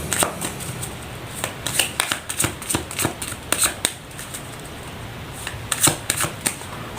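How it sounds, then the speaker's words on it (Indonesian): Tarot cards are shuffled by hand, a close series of quick riffling bursts and soft slaps in an irregular rhythm, with no talk over them. "Saya shuffle terlebih dahulu."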